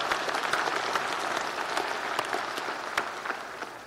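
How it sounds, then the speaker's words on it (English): Audience applauding the staff at an Alumni Hall during a Marine Corps awards ceremony: dense, steady clapping from a sizeable crowd, sustained evenly throughout without voices. "please a round of applause for our Alumni Hall staff"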